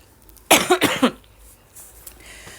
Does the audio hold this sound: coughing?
yes